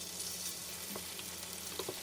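Flour-coated pork pieces fry in a generous amount of cooking oil in a pan, giving a quiet, steady sizzle with a few faint pops and stirring clicks and no voices.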